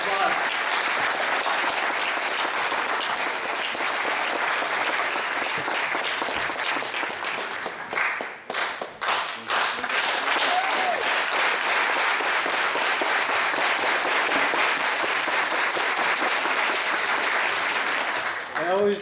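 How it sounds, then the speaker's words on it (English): An audience at a conference on police brutality in Oxnard, California, applauds the incoming keynote speaker with steady, loud clapping that runs continuously, dips briefly midway, then carries on strongly to the end. "Give him a round of applause."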